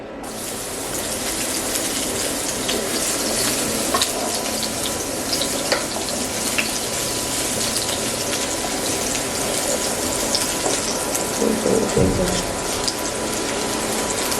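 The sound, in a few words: sautéing garlic in a pan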